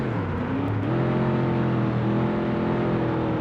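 A Chevrolet C5R race car engine drones steadily in a racing video game, a loud sustained whine that shifts up slightly in pitch as it accelerates, with no talk.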